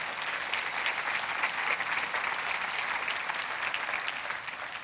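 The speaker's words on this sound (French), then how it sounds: "j'aimerais qu'on applaudisse les pères extraordinaires qui sont ici ce matin." A church congregation gives warm, sustained applause for fathers at a Father's Day service, an even wash of many hands clapping with no talk over it.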